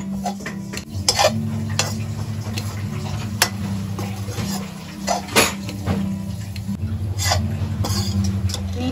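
Grated coconut mixture for jaggery barfi being stirred in a pan, with a spoon repeatedly scraping and clinking against the metal over a soft continuous sizzle, close and steady.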